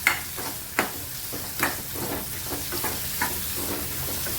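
Dried shrimp being stirred with turmeric in a hot frying pan, scraping spoon strokes at irregular intervals over a continuous soft sizzle, close and clear with no talking.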